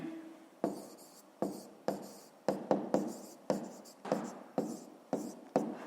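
Pen or chalk strokes writing out a math answer by hand, a string of short scratchy strokes in an uneven rhythm, close and clear with no talking.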